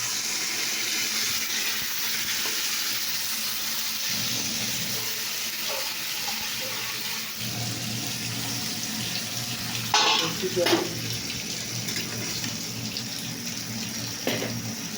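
Steady sizzling and crackling of poppy seeds frying in a pan, a continuous hiss with a few soft clinks and scrapes of utensils.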